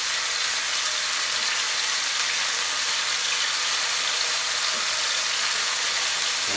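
Chicken tikka pieces hit a very hot pan and sizzle loudly, a constant, bright frying hiss that fills the whole stretch without a break.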